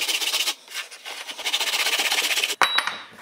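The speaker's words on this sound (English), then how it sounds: "And finish it with sandpaper." Hand sanding of a small workpiece with sandpaper for a guitar build: quick, close, rhythmic rasping strokes with a brief pause, then a sharp knock and a few more strokes.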